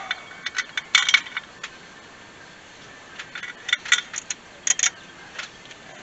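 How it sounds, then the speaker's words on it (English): Metal bolts clink and jingle lightly in a hand during an LS engine water pump install, in a few sharp, scattered clicks over quiet shop background. "So we'll throw a couple bolts in it"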